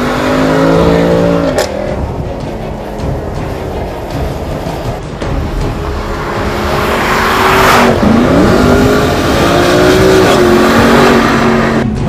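A Mercedes-Benz C63 AMG Coupe engine accelerating on the road, loud and close, its revs climbing in rising pulls with quick paddle-shift breaks between gears.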